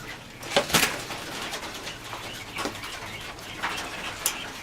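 Coturnix quail on a farm, with several short, sharp calls and soft chirps at irregular intervals over low farmyard background noise, heard at close range without talk.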